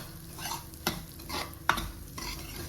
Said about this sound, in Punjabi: ਦਲੀਏ ਨੂੰ ਆਪਾਂ ਮੀਡੀਅਮ ਫਲੇਮ ਤੇ ਭੁੰਨਾਂਗੇ